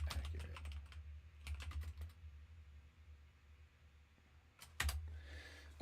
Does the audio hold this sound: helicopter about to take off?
no